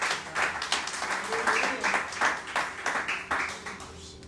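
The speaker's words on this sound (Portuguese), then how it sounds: "aplauda o Senhor mais uma vez" A church congregation claps during a worship service, a moderately quiet, uneven patter of hands that swells and dips, with voices murmuring underneath.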